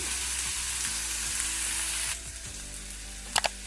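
Steady close sizzle of a paneer bhurji mixture with turmeric frying in a pan, dropping to a quieter simmer partway through, then two sharp clicks of a utensil near the end.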